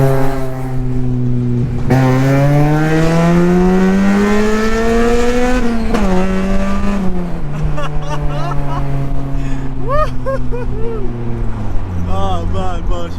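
Straight-piped Honda Civic EP3 Type R accelerating hard from the cabin, a loud, rising engine howl through the gears with a brief drop between pulls, as someone talks excitedly over the noise.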